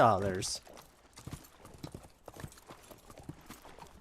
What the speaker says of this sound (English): This is my horse now.